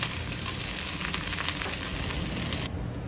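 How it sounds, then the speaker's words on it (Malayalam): Steady crackling sizzle of spices frying in hot oil, close and continuous, then quieting slightly near the end. "ഇനി ഇതെല്ലാം കൂടെ ഇട്ടൊന്ന് മൂപ്പിച്ച് കൊടുക്കാം"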